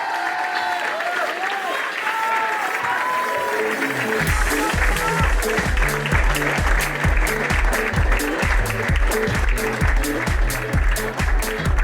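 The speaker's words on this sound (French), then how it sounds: "donc là un tonnerre d'applaudissements pour un sac sur le dos." Applause from a crowd at a travel bloggers' fair in Ajaccio swells after a few seconds, joined by loud rhythmic thumping, like a steady beat of clapping or stomping, continuing to the end.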